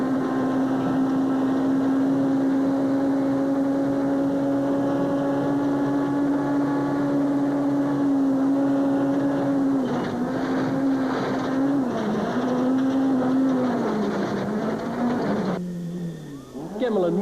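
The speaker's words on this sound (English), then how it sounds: "This is what it feels like approaching 200 kilometers per hour on gravel." A rally car at close to 200 km/h on a gravel stage during the Sasol Rally 2007 gives a loud, sustained in-car engine drone with rising and falling pitch as gears shift, ending in a sudden change in the engine note.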